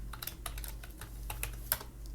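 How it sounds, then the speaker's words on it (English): Keys tapped on a computer keyboard while entering a password at a Linux terminal, a quick close run of a dozen or so crisp clicks in an uneven rhythm with one sharper keystroke near the end, over a low steady hum. "I type my password"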